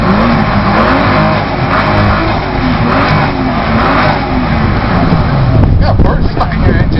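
A 1987 car's exhaust revs continuously at an outdoor exhaust soundoff, loud and close for the whole stretch, with a crowd chattering underneath.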